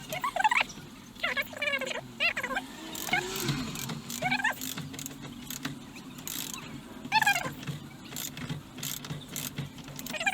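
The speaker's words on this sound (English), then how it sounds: "So let's have a look if we can bolt it off." A wheel bolt on a Ferrari Mondial's rear wheel is worked loose with a tool, giving intermittent metallic ratcheting clicks and clanks close by, with occasional talking in between.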